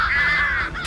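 A single harsh, drawn-out caw from a crow attacking a seagull, close and loud, with a slight wavering pitch and no voices.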